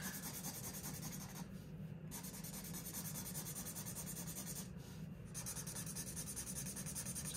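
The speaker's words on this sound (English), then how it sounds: "Let's get to coloring." Steady, continuous scratching of a marker or pencil coloring in a paper debt tracker sheet, with two brief pauses where the strokes stop; close and fairly quiet, with no talking.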